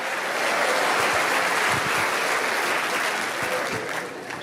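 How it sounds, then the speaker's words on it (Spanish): A crowd applauds steadily, a dense wash of clapping that holds strong and eases slightly toward the end. "No tenían que aplaudir eso"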